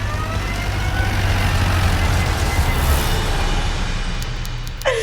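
A car speeds along with a loud, steady roar of engine and road noise close by, and a brief rising whine cuts in just before the end.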